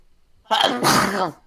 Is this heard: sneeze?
yes